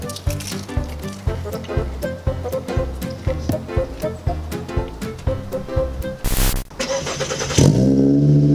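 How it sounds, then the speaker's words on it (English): A Volkswagen Golf engine revs loudly, its rhythmic pulsing and popping building to a sustained, higher rev at the end. "Since I'm on it, just rev it."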